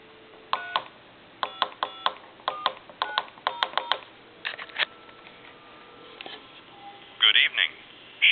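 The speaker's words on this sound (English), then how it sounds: "I'm going to go ahead and dial a time and temperature number." A military TA 954 telephone dials a time-and-temperature number: crisp rapid clusters of touch-tone beeps in quick groups, close and clear, followed by a few louder electronic tones near the end; no one talks.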